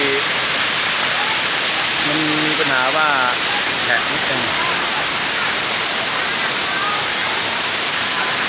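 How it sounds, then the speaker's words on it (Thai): Tham Soda waterfall in Roi Et, Thailand, a constant loud rush of falling water, with someone talking briefly over it. "นี่คือน้ำตกถ้ำโสดาอำเภอโพนทอง จังหวัดร้อยเอ็ดนะครับ"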